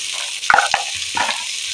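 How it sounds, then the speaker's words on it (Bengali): Chopped jackfruit seeds drop into a pan of frying potato and onion, raising a sharp burst of clatter and sizzle, then a second clink and a continuing steady frying hiss. "কাঁঠালের দানাগুলোকে আমি দিয়ে দিলাম"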